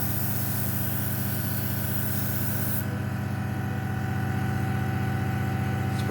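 An airbrush sprays red paint onto the nose of a 1:72 Airfix Short Tucano model, giving a close, steady airy hiss over the constant low hum of a compressor; the spray cuts off partway through while the hum carries on alone.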